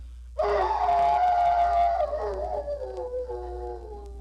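A man imitates a hound's howl in one long, loud, wavering vocal cry that slowly falls and fades into a trailing whimper, close and alone.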